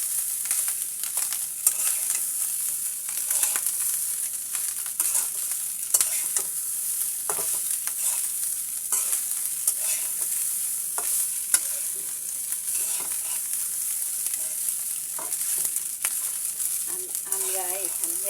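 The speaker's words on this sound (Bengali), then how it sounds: "হলুদ দিয়ে আমি এখানে নেড়ে" Fried rice made with red aman rice stirred in a pan after turmeric is added, giving a steady frying sizzle with repeated scraping strokes throughout, close and continuous with no talk.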